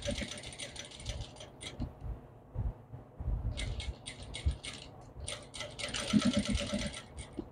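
A domestic sewing machine runs a backstitch while binding the edge of a baby bib, with short bursts of rapid mechanical stitching clatter separated by pauses and quiet handling sounds.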